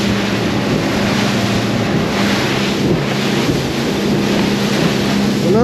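A boat crossing choppy open sea toward Bimini, with a loud, constant roar of engine, rushing water and heavy wind buffeting the microphone, the slapping of waves swelling and fading throughout.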